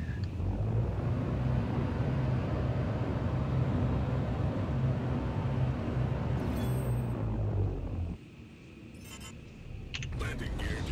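Engines of the Aegis Dynamics Retaliator bomber in Star Citizen hum as a steady low rumbling drone that drops away near the end, giving way to hissing bursts, with someone talking over it.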